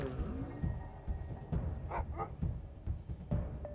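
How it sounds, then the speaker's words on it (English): A looping dog-bark sound effect from the Wasteland 3 PC game repeats as short, quiet yips and barks scattered over a low game soundscape, with no talking. "I hate the fact that they just have a dog sound effect looping constantly"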